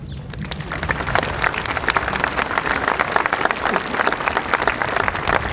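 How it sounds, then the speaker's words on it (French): An outdoor crowd in Les Sables-d'Olonne claps for volunteers and rescuers during a Bastille Day speech, a loud, sustained round of applause with sharp individual claps throughout. "On peut les applaudir"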